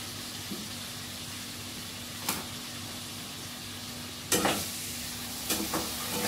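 Potato pieces frying in a pan with a constant close sizzle, broken by a few sharp scraping clatters as a spatula stirs them.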